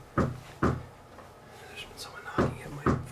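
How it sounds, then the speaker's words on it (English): Someone knocking at a front door: four heavy, booming thuds in two pairs, separated by a pause, near and loud, with faint background sounds between them. "someone knocking at my front door for the last 10 minutes or so, and they haven't stopped knocking"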